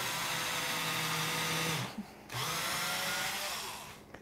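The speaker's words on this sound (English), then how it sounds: "I'm going to drill right next to it" A power drill whines steadily at close range drilling into a metal street sign, stops briefly for about half a second, then starts again and runs before tapering off.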